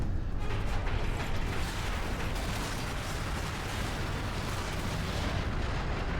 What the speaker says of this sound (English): that was a lot smaller explosion than I imagined